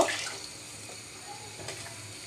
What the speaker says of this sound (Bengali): পটের জন্য আমি ছয় পট পানি দিব